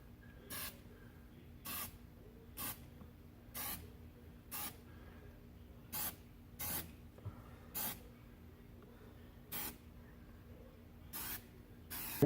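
Short bursts of spray adhesive hitting leather on the back of a Rolls-Royce Silver Cloud, about a dozen separate hissing puffs spaced a second or so apart, close and fairly quiet over a low background hum.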